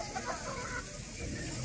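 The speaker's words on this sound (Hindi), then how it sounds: "हर नस्ल की मुर्गी है भाई इधर" Chickens and roosters of many breeds cluck at a strawberry farm park in Al Hada, Taif, the fowl faint and somewhat distant within a steady, noisy outdoor ambience.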